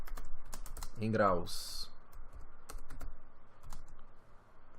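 Clicky keystrokes on a computer keyboard, irregular taps spread across a few seconds, with a brief spoken phrase near the start.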